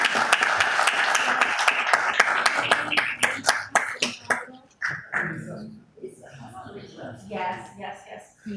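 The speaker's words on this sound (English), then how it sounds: "Big round of applause." At a city council meeting, an audience claps in dense applause that thins into scattered claps and dies away, then people begin talking.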